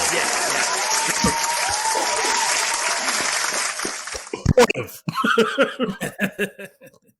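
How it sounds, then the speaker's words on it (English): A talk-show studio audience applauds in a loud, steady wash of clapping for several seconds, then it breaks off into laughter and lively chatter among the hosts. "a round of applause for Savannah James"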